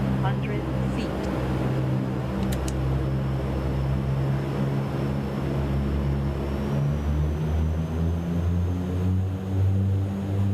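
Dash 8 Q400 turboprop engines at takeoff power in X-Plane 12 produce a steady, loud drone with strong low tonal bands that hold for the whole stretch, while a voice speaks over them.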